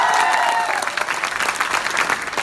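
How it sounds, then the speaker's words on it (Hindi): An audience at a live stage show claps together in one loud, dense burst of applause that holds steady, then thins a little toward the end. "एक बार ताली बजाओ"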